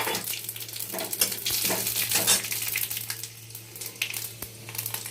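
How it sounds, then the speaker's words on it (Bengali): Radhuni seeds for a tempering crackle and sizzle in hot oil, a bright continuous fry close by with light clinks of a spoon on the pan. "চলুন রাঁধুনি এইটা ফোড়ন দিয়ে দিই।"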